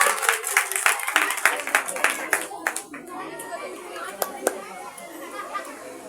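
An audience at a children's 14 August program claps for a girl: a loose burst of hand claps that quickly fades into crowd chatter and children's voices, with a few isolated claps afterward.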